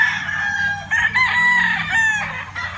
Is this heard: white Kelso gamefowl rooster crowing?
yes